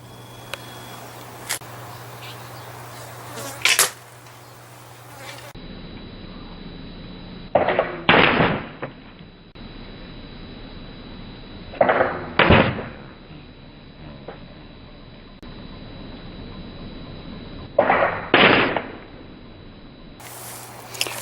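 Arrows from an old wooden longbow strike a red yard waste bag target outdoors, three sharp thumping impacts spaced several seconds apart over quiet background.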